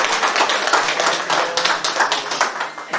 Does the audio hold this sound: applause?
yes